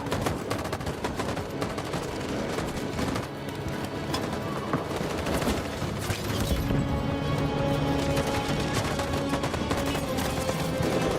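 Sustained gunfire volley in the video game Detroit: Become Human, dense overlapping shots rattling continuously at steady loudness for the whole stretch with a busy mechanical clatter beneath.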